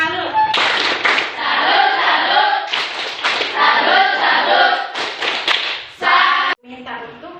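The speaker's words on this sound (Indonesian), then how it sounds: "Kita tepuk salut dulu." A group of children performs a rhythmic patterned clap routine in a classroom coaching session, with bursts of clapping and tapping separated by short pauses and voices chanting along.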